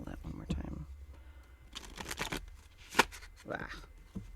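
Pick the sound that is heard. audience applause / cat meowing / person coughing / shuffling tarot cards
shuffling tarot cards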